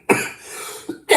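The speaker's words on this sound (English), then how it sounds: "I'm still getting over a little cough." A person coughs sharply twice in close succession, followed by a third harsh cough, loud and near.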